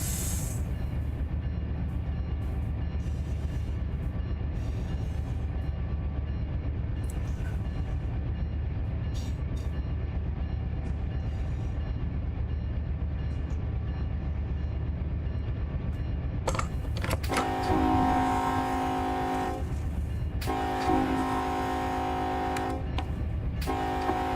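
A freight unit train rolls slowly through a rail yard with a steady low rumble and droning engine noise, and a louder stretch of clanking and hissing toward the end.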